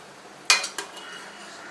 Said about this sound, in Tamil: மிக்ஸ் ஆகிற மாதிரி நல்லா கிளறி விடணும்